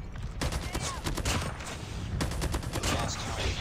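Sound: DRH rifle hipfire in Call of Duty Mobile video game

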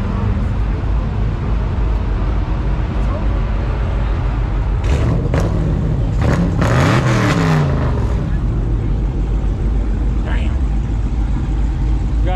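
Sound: supercharged track car engine revving at drag strip

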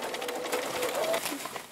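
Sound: embroidery sewing machine stitching a tote bag

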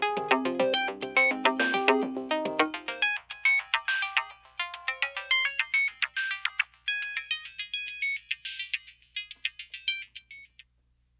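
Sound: Spectralis synthesizer filter bank bands closing, sound fading away

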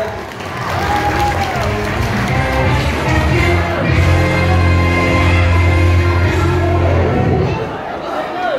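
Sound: congregation applauding

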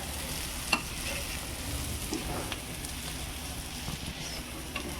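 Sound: colocasia leaf rolls (alu vadi) frying until crisp

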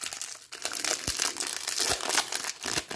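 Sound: utility knife cutting open toy packaging

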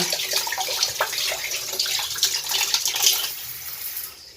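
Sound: tap water running, spring water

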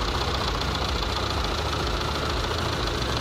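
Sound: Proton Waja MMC engine idling low when hot

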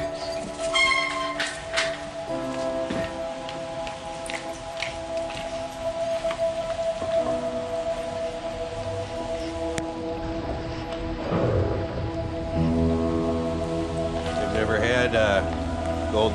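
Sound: rain falling outdoors

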